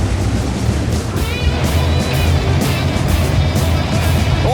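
A 50-ton Vipera tank rolls along steadily in World of Tanks, a loud, continuous low engine drone and rumble with rushing track and wind noise, no pauses.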